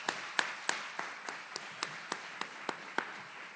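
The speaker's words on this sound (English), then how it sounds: "let's give them a thunderous round of applause to these remarkable individuals" Sparse, slow clapping at an Army aviation course graduation ceremony at Fort Eustis, about a dozen distinct hand claps spaced roughly evenly, fairly quiet and somewhat distant.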